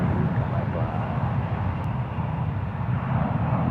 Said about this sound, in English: Rolling down runway 28 right now. It's VistaJet flight 850. This is a Bombardier Global 6000.